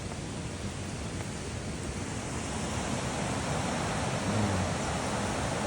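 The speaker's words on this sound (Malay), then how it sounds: "Ni air sungai ni." Steady broadband rushing of a river flowing close by at the Buloh Telor campsite in Kuala Kubu Bharu, Malaysia, continuous and fairly loud, with no voices.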